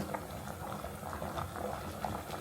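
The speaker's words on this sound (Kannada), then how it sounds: "ನೋಡಿ ಇವಾಗ ಚೆನ್ನಾಗಿ ಕುದಿಯೋದಕ್ಕೆ ಸ್ಟಾರ್ಟ್ ಆಯಿತು" Temple-style Mangalore cucumber sambar boils in a pot, giving a soft, steady bubbling that stays fairly faint and even for the whole moment, with no speech.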